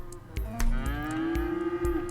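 Cattle on a farm moo in the Cities: Skylines city-building game, with several drawn-out, rising lowing calls layered over a steady background bed and repeated dull low thumps.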